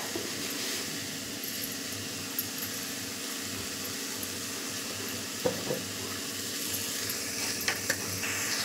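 Vegetables sautéing in oil for veg manchow soup give a steady, fairly quiet sizzle and hiss, with a few faint clinks of a spoon against the pan, continuous and nearby without speech.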